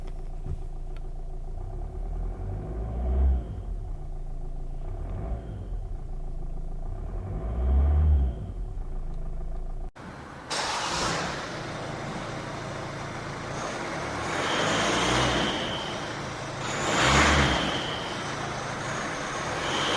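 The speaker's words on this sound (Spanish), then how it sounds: "vamos a encender el coche para que escuchéis el ruido que hace interiormente." A steady low engine hum heard from inside a Hyundai i40 sedan, with a soft rumble that swells and fades in slow waves; no talking.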